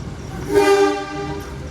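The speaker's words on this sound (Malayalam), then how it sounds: "ട്രെയിന് വരുന്നുണ്ട്" A loud train horn swells up and holds for a moment, blaring over a low background rumble as a train arrives at a station in Indonesia.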